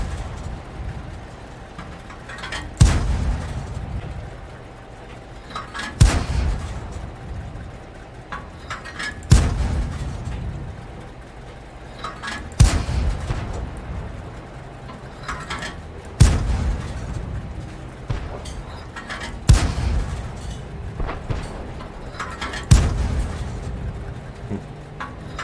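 An SU-76M self-propelled gun in a video game fires over and over, with about eight sharp, booming shots spaced roughly three seconds apart, each followed by a short rumbling decay over low battle ambience.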